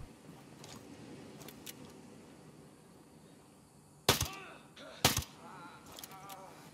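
Gunshots in Ghost Recon Breakpoint during a raid on Liberty Airport, hitting enemy soldiers: two sharp, loud shots about a second apart rise out of quiet ambient game sound, with faint distant pops before and after.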